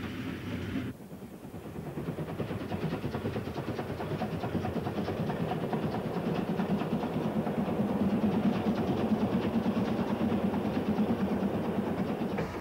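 Hungarian MAV class 411 consolidation steam freight locomotive running steadily, with a continuous rumble, rhythmic chuffing and rail clatter that swells slightly after a brief drop near the start, heard alone and fairly close.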